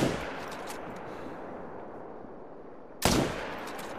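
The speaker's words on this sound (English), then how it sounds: "These guys did not hear the gunshot." A .300 magnum rifle shot in a hunting video game, aimed at elk: one sudden loud crack about three seconds in, with a short decaying tail, over steady ambient wind-like outdoor noise.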